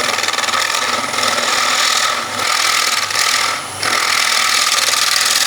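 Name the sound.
quarter-inch bowl gouge taking small cuts on wood bowl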